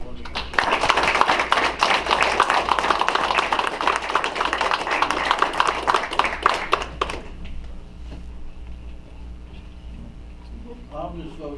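A council meeting audience in Taylorville claps for young explorers for about seven seconds, a dense round of applause that stops abruptly, leaving quiet room tone and a voice speaking.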